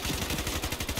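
Rapid hip-fired bursts from a PP90M1 submachine gun in the shooter game Ironsight, a dense run of close, loud shots with a fast, even rhythm across the whole second and no talk.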